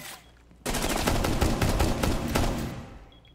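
SMG12 fire in a mobile shooter game comes as one sustained, loud, rapid burst of close shots lasting about two seconds, then cuts off.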